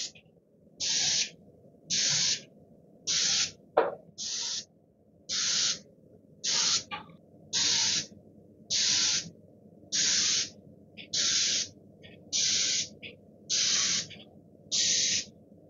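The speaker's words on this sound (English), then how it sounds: "Okay, ready to spray these samples." Spray gun laying a light dusting coat of paint finish onto sample boards, heard as about thirteen evenly spaced, steady hissing bursts of roughly a second each, separated by short pauses over faint background noise, with no talking.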